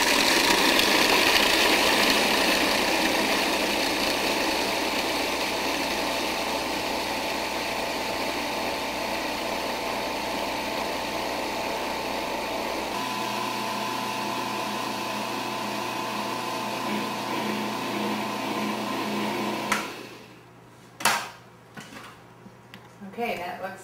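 A nut mixture for baklava is ground fine by a steady motor whirring for about twenty seconds that shifts pitch partway through, then cuts off, followed by a few clinks and handling knocks.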